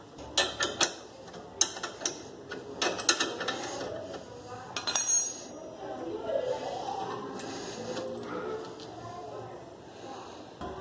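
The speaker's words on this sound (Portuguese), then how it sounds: "Então, agora nós vamos soltar aqui essa bieleta" Bolt on a VW Golf (Sapão) sway bar end link being loosened at home with hand tools: a burst of sharp metallic clicks, ratchet ticks and clanks, then quieter scraping and handling, with a low voice in the background.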